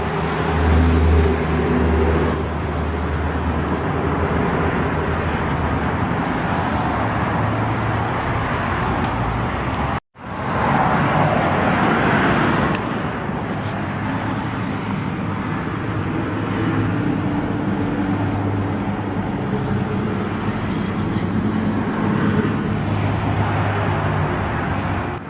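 A white Lamborghini Aventador with push-button ignition sits running, its engine a steady, loud, continuous rumble for the whole stretch, broken only by one brief cutout in the middle before the idle resumes.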